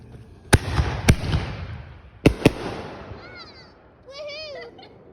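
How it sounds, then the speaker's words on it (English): Fireworks bursting outdoors at an evening gathering: four sharp, loud bangs in two quick pairs with crackling tails, followed by excited high-pitched voices calling out. "You're supposed to record the fireworks."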